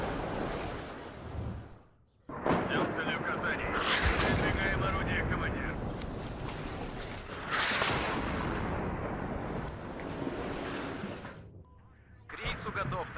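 Artillery fire in the Cold War strategy game WARNO during a large armored tank engagement, heavy booming blasts and rumbling impacts rolling continuously, loud and close, with short lulls and radio-style voice chatter over the battle.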